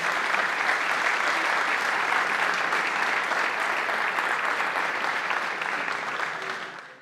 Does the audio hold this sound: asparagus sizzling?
no